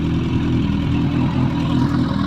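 Suzuki GSF1250SA Bandit motorcycle engine, about sixty-odd thousand on the clock, running with a deep steady rumble and slight rise in revs, close and loud with no talk.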